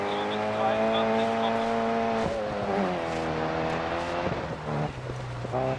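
A Mini Cooper S rally car revving hard through the gears on a Swedish forest stage in DiRT Rally, its engine note climbing and dropping with each late shift, loud and close, with a brief tyre scrabble.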